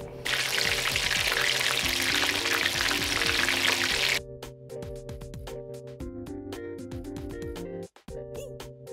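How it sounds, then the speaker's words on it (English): Crappie fillets frying in hot oil for tacos make a loud, steady crackling sizzle that fills the first four seconds, then thins into a lighter popping sizzle with scattered crackles and a brief dropout near the end. "so let's get these fish fried real quick"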